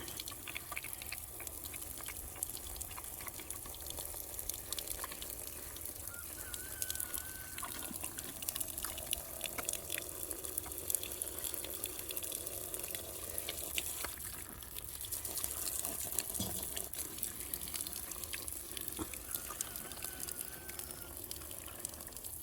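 Water runs from a hose for pigs to drink, a soft steady trickle and splash outdoors, faint and continuous with scattered small drips and ambient noise.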